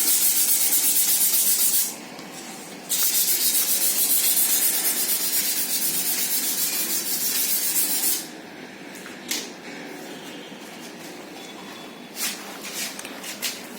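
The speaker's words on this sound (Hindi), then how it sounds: "अब हम इसके ऊपर 220 का रेगमाल लगा लेते हैं हल्का हल्का इस तरह से।" A sheet of MDF rubbed by hand with 220-grit sandpaper, giving long, close, hissing scratchy strokes: one brief pass, then a sustained stretch of about five seconds, followed by lighter intermittent rubs.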